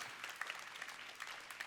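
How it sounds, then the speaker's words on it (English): Applause from an audience at an online campus gathering, a faint, brief patter of scattered claps with a few sharper individual hits, heard from a distance. "Come on, you clap."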